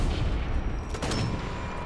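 A single sharp sniper rifle shot in Sniper Elite 4 cracks out midway through, set against a steady bed of game ambience.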